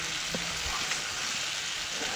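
Fish and potatoes sautéing together in a pan give a steady, close hiss and sizzle of hot oil, with a faint stir or clink now and then.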